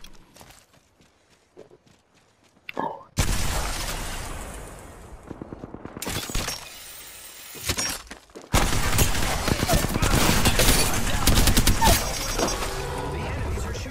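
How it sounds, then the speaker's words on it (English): Enemy gunfire in the Apex Legends video game, arriving as sharp close bursts separated by quieter gaps, with a dense, loud barrage of shots and impacts over the second half. "The enemies are shooting at me."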